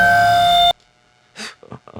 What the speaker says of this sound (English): a lot of grain delays should sound like